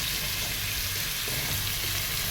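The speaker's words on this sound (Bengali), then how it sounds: "দিয়ে মাছটারে আগে ভেজে নিই ভালো করে" Fish frying in hot oil, a steady hiss of sizzling that fills the whole stretch at a moderate level with no voices.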